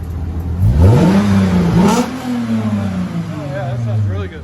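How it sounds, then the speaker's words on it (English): A Lexus engine with a resonator exhaust revs several times in quick, deep swells, then settles into a sustained drone and a lower idle, heard up close and loud. "Resonator gives it a really deep tone."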